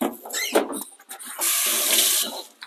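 Fresh oregano gets rinsed under a running kitchen tap, a close, fairly soft splashing and trickling with brief pauses before the water flows steadily for about a second, then stops, with no voices.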